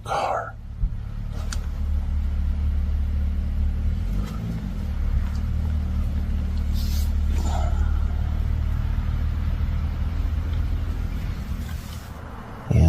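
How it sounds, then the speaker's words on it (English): A car passing at night near a campsite, a low engine rumble that swells and lingers steadily for several seconds at a moderate distance, with a few faint knocks and rustles nearby. "there's a car."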